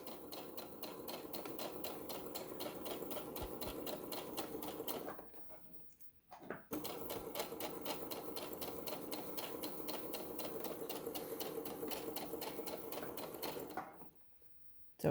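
A sewing machine stitches a tote bag in a fast, even, rattling run, pausing briefly midway before resuming, then stopping near the end.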